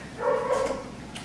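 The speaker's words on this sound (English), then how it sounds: "They're barking at each other." Sheepadoodle puppies at five weeks old giving a short, high yappy bark and a small whimper, close by and fairly quiet.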